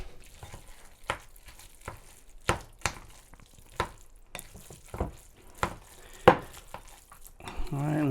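Fish and rice in a pot with soy sauce and sriracha being stirred, a series of close, irregular spoon scrapes and knocks against the pot spaced about a second apart, with quiet stretches between.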